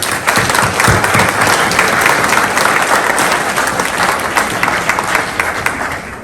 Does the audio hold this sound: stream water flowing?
no